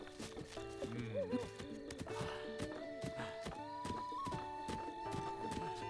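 A horse in the video game Zelda Breath of the Wild gives whinnying calls and a steady run of clip-clopping hooves, close and clear, with a few faint voices mixed in.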